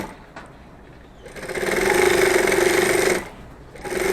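A sewing machine stitches slowly for a beginner, a steady mechanical whir that swells in for about two seconds over a faint background hum, then stops, close by and without voices.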